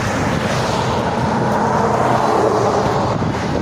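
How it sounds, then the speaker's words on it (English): A 2016 Ducati Monster 821 Dark motorcycle engine roars loud and close in a sustained, steady rev that holds for several seconds without a break. "Rev it up one time, John."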